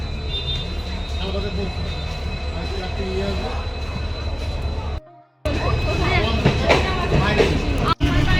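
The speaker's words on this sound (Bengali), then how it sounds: "ট্রেন ঢুকেও গেছে।" A train pulls into a station with a loud, steady rumble and wheel noise, broken briefly by a gap and a sharp knock, while people talk nearby.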